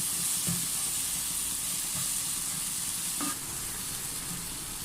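Tomatoes sizzling in a frying pan while being stirred, a steady close hiss with a few soft scraping taps of the spoon.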